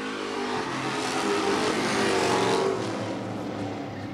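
Race cars scream around a track together, with a layered engine roar swelling as a car climbs the high side and then easing back, loud and close with no talk.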